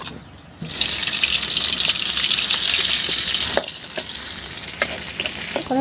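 Meat fries in a pan with tomato, onion, garlic and freshly dug new potatoes, giving a loud, steady sizzle up close that eases after a few seconds into softer crackling and stirring clinks.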